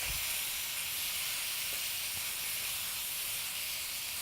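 Beef mince stir-frying in a pan for a noodle stir-fry, a constant bright hiss of browning meat, steady and fairly faint, without speech.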